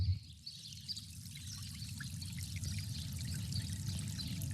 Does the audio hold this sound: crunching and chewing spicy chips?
no